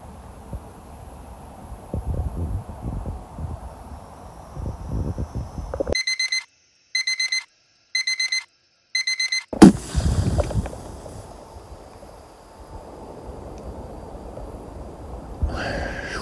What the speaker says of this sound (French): J'ai mis le réveil à 6h